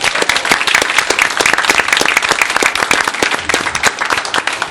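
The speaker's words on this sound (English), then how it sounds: "So we're going to give you another round of applause on that." Sustained applause from the audience at a town council meeting, dense steady clapping filling the room at close range with no speech over it.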